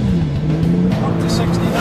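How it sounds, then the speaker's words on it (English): A Porsche 911 Turbo of the 997 generation holds steady revs under launch control, its engine droning loud and close with a rising pitch as it builds, while someone talks over it. "So with my left foot firmly on the brake, I now accelerate to activate launch control."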